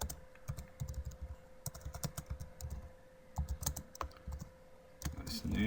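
Fingers type on a computer keyboard in quick, uneven bursts of close, crisp key clicks with short pauses between them, recorded alone in a quiet room.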